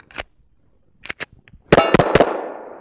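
Springfield 1911 TRP pistol fired at steel targets on an outdoor range in freezing cold: two or three sharp isolated shots and ringing hits, then a louder close burst of quick shots with lingering metallic ring.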